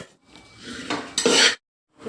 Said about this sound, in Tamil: நம்ம நல்லா கிளறி விடுறதுல தான் நமக்கு இந்த இது டேஸ்ட்டே வரும்.